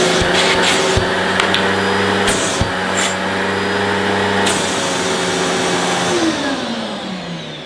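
A Hoover Evo Breeze vacuum cleaner runs steadily and loudly with a constant motor whine, a couple of brief knocks and pitch shifts near the start, then its tone drops slightly as it winds down at the end.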